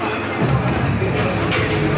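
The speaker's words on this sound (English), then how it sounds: "Rangers crowd has gotten back into this game" Ice hockey arena crowd at a Rangers home game against the Storm, a loud, dense roar of cheering and babble filling the space, with a commentator's voice faintly mixed in.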